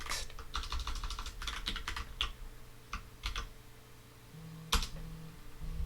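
Someone types on a computer keyboard in quick irregular bursts of close, crisp key clicks, with short pauses between runs and a faint low hum underneath.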